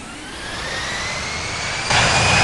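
Airliner jet engines spooling up for takeoff in the Infinite Flight video game, a steady rising whine and roar that swells louder and brighter toward the end.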